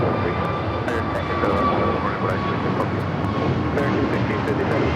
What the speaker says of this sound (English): Next takeoff is an American A321 heading to Dallas, Fort Worth, Texas